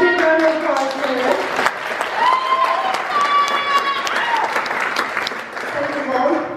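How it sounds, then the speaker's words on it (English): An audience claps for a pianist at a live performance, a moderately loud wash of applause with scattered cheers, while a voice speaks over it. "big round of applause for her"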